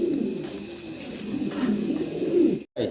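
Pigeons coo close by in a low, throaty repeated murmur, steady over faint background noise and cut off briefly near the end.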